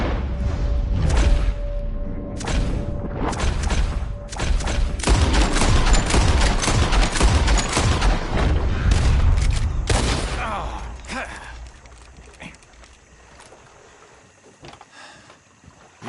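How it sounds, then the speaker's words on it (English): Massed gunfire from a group shooting together in Red Dead Redemption 2, a dense, loud barrage of overlapping shots for about ten seconds that then thins out and fades into quieter ambience. "As soon as you see them, start shooting."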